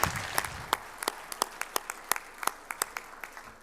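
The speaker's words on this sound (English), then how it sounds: "Give yourself a big round of applause" Audience clapping at a chamber of commerce annual dinner, thinning out into scattered individual claps that dwindle over a few seconds, fairly quiet and distant.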